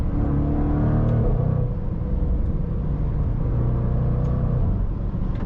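A 2024 Jaguar F-Pace SVR SUV's V8 engine accelerates hard, a loud continuous roar with rising harmonic tones heard close from inside the cabin, unbroken by talk.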